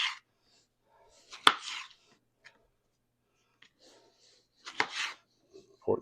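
Fruit sliced with a knife for homemade wine, heard as a few sparse, close cutting sounds with one sharp tap and scraping strokes, separated by silent gaps.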